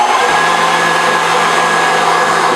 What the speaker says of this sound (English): now I'm adding and continue whipping my room temperature butter